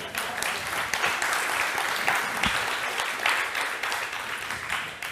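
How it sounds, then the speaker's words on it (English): Applause from an audience at a community tech demo session, a steady patter of many hands clapping for several seconds at moderate distance, with no talking over it. "you can applaud if you want."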